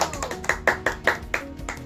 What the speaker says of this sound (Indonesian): Mbak Aisyah diberi tepuk tangan terlebih dahulu.